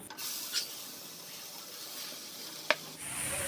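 Grated carrots fry in ghee in a wok with a continuous soft sizzle and hiss, broken by a couple of brief sharp clicks and a louder burst near the end.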